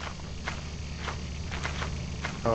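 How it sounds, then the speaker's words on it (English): Bees in the Lethal Company video game buzzing faintly in a low continuous drone, with soft scattered rustling steps over it and no speech. "Oh, those are bees!"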